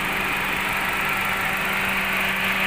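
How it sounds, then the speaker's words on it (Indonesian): A 2014 Nissan Grand Livina with a manual gearbox idles smoothly, a steady even hum with a faint whine and no knocks, close and continuous. "Mesinnya insya Allah juga suaranya masih halus."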